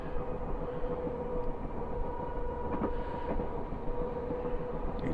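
A Class 423 4-VEP electric multiple unit in Train Simulator coasts downhill on a 1 in 128 gradient, giving a continuous low rumbling roll with faint wheel clicks and a steady motor hum.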